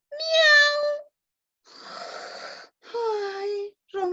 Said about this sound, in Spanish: Entonces gato hizo miau.